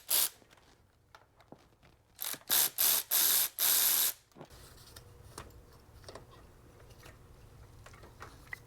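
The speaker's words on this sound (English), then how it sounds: "Our pump bolts are T45 Torx. We'll just loosen up one side, loosen up the other side." A ratchet clicks in quick bursts as it loosens the T45 Torx fuel pump bolts on a Ford 3.5 EcoBoost, a few loud close rattling runs followed by quieter handling noises.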